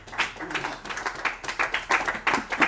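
A church congregation claps and applauds together, a dense run of rhythmic hand claps filling the room for a few seconds at moderate loudness.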